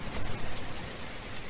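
Heavy rain pours steadily and close, a dense unbroken hiss of drops striking surfaces with no voices or other sounds.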